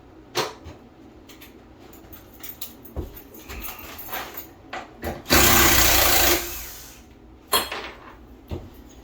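A power driver whines in a sustained burst as it backs Torx screws out of a bathtub during a bathroom install, with short tool and handling clatters before and after.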